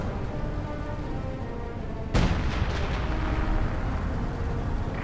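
Artillery fire in the Company of Heroes 2 war video game: one heavy, sudden boom cuts through a steady rumble of battle noise, then its rolling aftermath lingers loudly under the continuing din.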